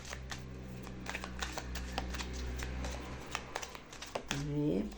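A deck of Gypsy fortune-telling cards being shuffled, a run of quick papery riffles and flicks close to the microphone, with a low steady hum underneath.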